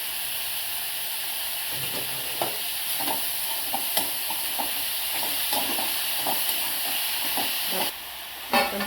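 Vegetables for street-style veg noodles stir-fry in a hot pan, making a loud, continuous hissing sizzle broken by repeated close spatula scrapes and taps, with no talking.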